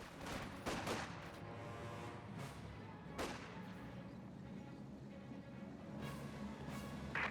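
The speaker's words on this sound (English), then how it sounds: "This conscript squad firing away." A Soviet conscript squad fires rifles in the Company of Heroes 2 video game: scattered sharp shots and small volleys over rumbling battle noise, fairly faint in the overall mix.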